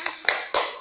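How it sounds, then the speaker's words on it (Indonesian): Four sharp hand claps, spaced and close, from a small group in a language class, with no talking in between. "Oke, tepuk tangan untuk kita semua."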